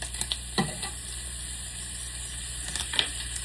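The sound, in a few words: butter sizzling in a pan with frying bacon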